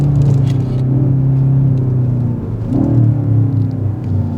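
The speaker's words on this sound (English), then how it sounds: "Even the downshift." A 2024 BMW XM performance car drives with a steady loud engine rumble, its pitch dropping and then rising again as it downshifts partway through, heard from inside the cabin with no talking.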